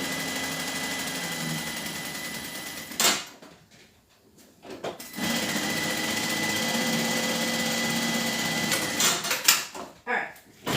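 A sewing machine with an automated thread cutter stitches quilted fabric for a bag, giving a steady close whirring run that stops briefly, with a few clicks, then resumes at an even pace.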